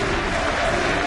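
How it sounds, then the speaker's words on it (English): A crowd applauds at the 2014 All-Star League of Legends grand finals, SKT T1 K versus OMG: dense, continuous clapping fills the arena briefly, with a commentator's voice faintly underneath. "We hear the crowds here."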